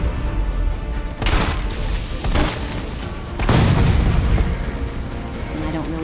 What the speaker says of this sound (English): all I've got to do is shoot him with a shotgun